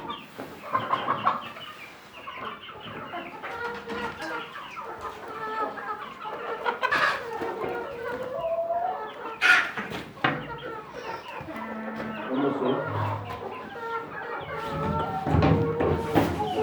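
Hobby chickens cluck busily and continuously nearby at feeding, a flock of overlapping calls with occasional louder squawks and some Turkish voices mixed in.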